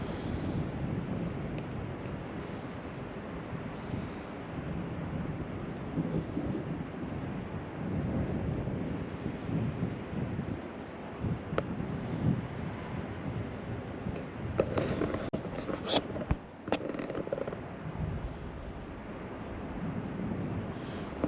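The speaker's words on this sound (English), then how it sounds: "the sea is crashing into the pier" Sea waves crash against a pier on a winter night, producing a continuous broadband roar mixed with wind rumble that swells slightly in places, with no talking.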